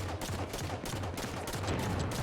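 Rapid turret gunfire in the video game Dungeon Lords, a dense fusillade of overlapping shots rattling continuously and loudly for the whole stretch with no talking.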